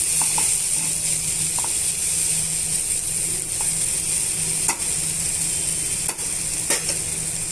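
Okra stir-fried with a spoonful of coconut powder in a pan gives a steady, close sizzle, with a few stirring scrapes and clicks of the spatula. No one speaks.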